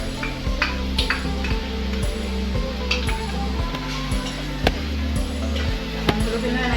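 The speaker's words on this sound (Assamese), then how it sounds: "এনেকৈ 2 মিনিটমান ভাজি দিম।" Chopped ginger and garlic fry in a hot wok, crackling and sizzling steadily while a utensil repeatedly scrapes and clinks against the pan, with a low hum throughout.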